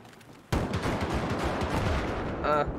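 Gunfire in the video game Battlefield 4, a loud, dense burst of shots and impacts starting abruptly and rolling on continuously, with a brief higher-pitched tonal sound near the end.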